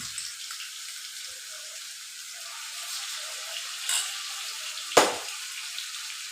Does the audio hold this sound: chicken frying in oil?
yes